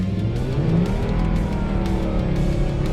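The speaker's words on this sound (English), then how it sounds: "show us a little bit of an all-wheel drive snow launch" A 2007 Volvo S60R with all-wheel drive launching on snow, its engine roaring loud and close in one sustained, revving pull throughout.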